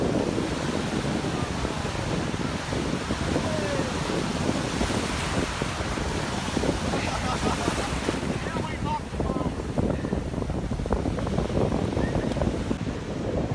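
Ocean surf at Ventura State Beach, California, roars in a steady, dense wash that lasts throughout, with wind buffeting the microphone and no clear breaks between waves.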